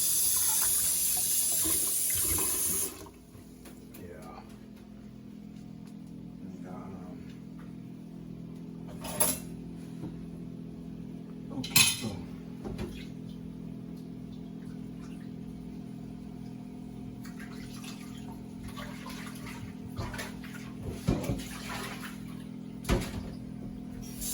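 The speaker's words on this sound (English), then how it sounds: "I'm just gonna put a little cold water in it." Cold tap water gushes loudly into a cooking pot in a home kitchen for about three seconds, then cuts off, leaving a quiet room with a few faint clinks and knocks.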